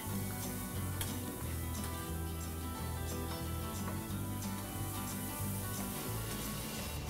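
Vegetables and rice sauté in olive oil in a pan with a steady sizzle, while a spoon scrapes and stirs and faint ticking runs throughout. No voices are heard.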